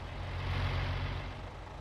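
Deutz Agrotron 150.6 tractor engine in Farming Simulator 19, a steady deep rumbling drone that swells slightly midway and holds close and even throughout, with no talking.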